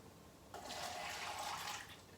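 Water poured quickly into a cup during a magic trick, a short gushing splash starting after a half-second pause and lasting just over a second, close and fairly loud with no talking.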